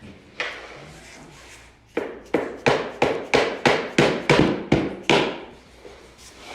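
A little crowbar taps flooring into place during a snap-lock floor installation, giving about a dozen sharp, evenly spaced knocks at close range after one earlier hit.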